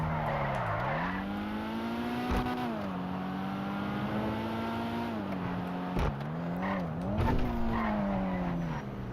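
A car in GTA 5 Online drives along a road with a steady engine drone that rises and falls as it shifts and accelerates, with brief thumps and a few tire squeals, loud and close throughout.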